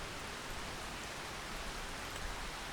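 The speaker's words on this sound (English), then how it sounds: "It's currently chucking it down with rain and it's dark still." Heavy rain pouring down outside on a potato farm in the dark, a dense steady hiss of drops with no letup and no voices.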